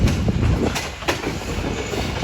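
The Ghouri Express passenger train runs into Safdarabad railway station with a dense rumble and wheel-on-rail clatter, broken by brief metallic clacks and faint squeals, and stays steady and loud throughout.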